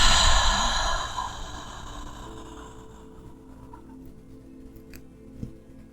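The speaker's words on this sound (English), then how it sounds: "Again, inhaling in through the nose, and then exhaling deeply through the mouth." A long, deep exhale through the mouth during a guided breathing exercise, starting as a strong breathy rush that slowly fades over several seconds into a quiet room.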